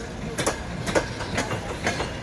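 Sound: ChS4 electric locomotive hauling passenger train

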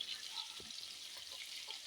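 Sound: dried fish pieces frying in oil in a pan

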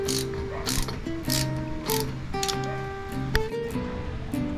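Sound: tightening bike rotor bolts with torque wrench

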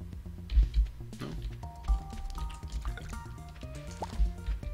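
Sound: watering crops in the video game Stardew Valley

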